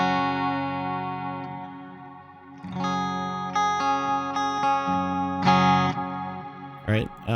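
An electric guitar played through a JST Toneforge Misha Mansoor preset, drenched in washy ambient reverb: sustained chords swell and shimmer, fresh strums ring out and decay into a long tail, and a brief scrape or pick noise comes at the end.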